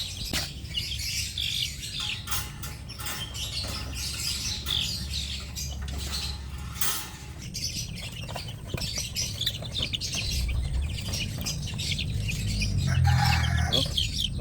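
Small Chinese chickens chirp constantly in high, overlapping peeps while being moved into a new cage, with rustling, scratching and patter of handling close by throughout.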